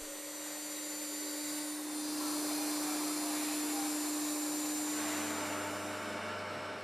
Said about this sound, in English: This milling bit is being used to cut slots and holes.